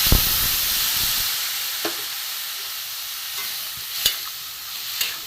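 A chickpea ghugni sizzling in a pan with water added, a steady hiss with a few sharp scrapes and clinks of a spoon stirring.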